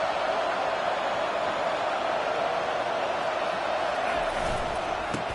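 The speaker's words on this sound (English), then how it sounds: "Oh, man, the crowd going nuts" A stadium crowd at a college football game, Colorado against Oregon, roars in a dense, sustained wash of cheering that holds steady throughout, with a few faint sharper sounds near the end.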